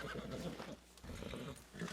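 A horse in a video game snorts and whinnies at close range, a short breathy, rough burst of animal sound with no speech.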